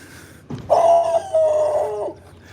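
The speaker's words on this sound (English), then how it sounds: "Oh, there's a dog here." A loose, unleashed dog barks and then lets out a long, sustained howl on a roadside lawn along a hiking route, close and loud, lasting over a second before cutting off.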